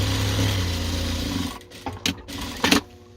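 Sewing machine topstitching the outer side of a patchwork fabric case with a lining, running steadily and fairly close for about one and a half seconds, then stopping, followed by a few short handling sounds.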